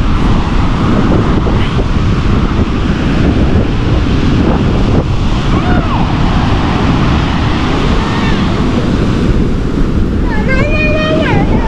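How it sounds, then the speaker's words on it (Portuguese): Rough, agitated sea with waves crashing near a rocky cave shoreline, a constant loud roar of surf and wind buffeting the microphone throughout, with faint bird-like chirps near the end. "Tá bem agitado o mar."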